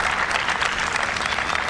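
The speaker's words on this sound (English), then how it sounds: "You can hear the crowd roar," A tennis crowd at a women's pro tournament in Mumbai roars and applauds after a point, a dense, sustained wash of cheering and clapping from the stands with no commentary over it.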